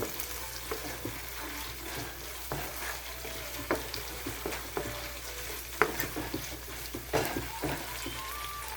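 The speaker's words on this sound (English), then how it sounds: "So I'm gonna saute my saltfish." Boiled, deboned saltfish sautéing in a pan, a steady sizzle with frequent scraping stirs and light clinks, close and continuous throughout with no talk.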